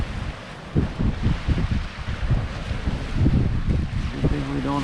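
Wind and choppy water on Yellowstone Lake in the afternoon: gusty roaring wind buffets the microphone over irregular splashing waves, with a faint tonal hum near the end.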